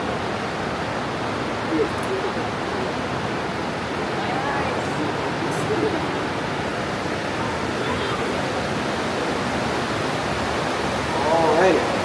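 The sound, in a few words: water rushing at underground dam in cave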